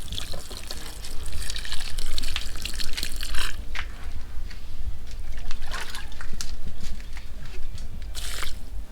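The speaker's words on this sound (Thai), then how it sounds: "เสร็จแล้วเราก็ไปรดถ้าสมมติว่าเป็นต้น เป็นต้นอย่างนี้เราก็รดไปเลยนะคะ" Bio-fermented liquid fertilizer poured over garden plants, a steady splashing trickle of liquid running without a break for the whole stretch, close and fairly loud, with a few brighter spatters standing out.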